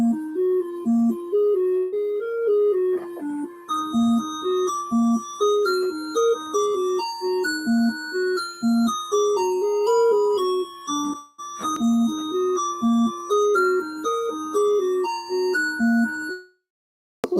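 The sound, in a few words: chiptune music track compiled from MML code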